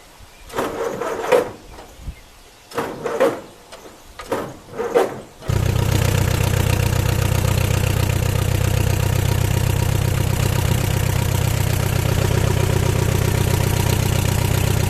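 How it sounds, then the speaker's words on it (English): An old Allis-Chalmers B tractor cranks over in several short, labored bursts, then its engine catches and settles into a steady, loud idle that runs close and continuous to the end. "This is the old B Allis. Turn on the switch. See if it'll start."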